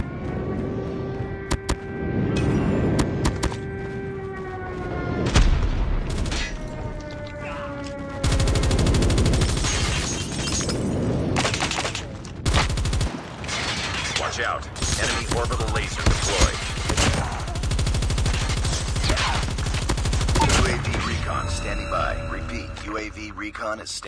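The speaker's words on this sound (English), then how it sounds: "Friendly airstrike incoming." Call of Duty Mobile match audio with dense bursts of machine-gun fire and explosive impacts from a friendly airstrike, loud and continuous under game voice callouts and talk.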